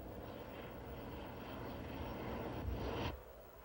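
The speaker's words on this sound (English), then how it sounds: "an El Al 747, its markings covered to disguise its identity, floated down from the skies" An El Al Boeing 747 airliner landing, heard as a faint, steady jet roar at a distance that swells slightly and then cuts off abruptly near the end.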